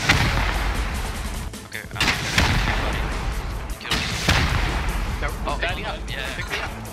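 Rocket explosions during a raid in the game Rust, several heavy booms and crashes in irregular succession with gunfire between them, loud and close, while people talk over the din.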